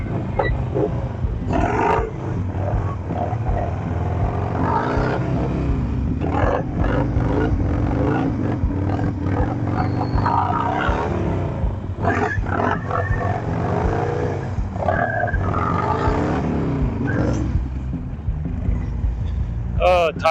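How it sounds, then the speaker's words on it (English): A Harley bagger motorcycle ridden during stunt practice on a very grippy tire, its engine droning and rumbling loudly and steadily throughout, rising and falling in pitch, with a rider's voice occasionally over it. "So I'm gonna ride the bagger."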